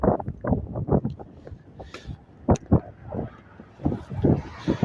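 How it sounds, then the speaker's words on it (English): Gusty wind blows across a street in Stockbridge, Henry County, Georgia, on a cold night as cars pass by, with rushing swells and a few sharper bursts rising and fading over a steady outdoor hiss. "listen to the wind. Yeah, right? It's picking up over here, and especially with all the cars going by."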